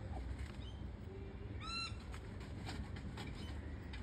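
Rainbow lorikeets give a short, bright burst of calls above a constant rush of wind, with a few fainter chirps scattered around it.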